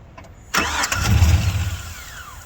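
The engine of a 2006 Chevrolet Silverado pulled from a pasture cranks and then catches with a sudden loud burst, rumbling heavily for about a second before settling and fading slightly.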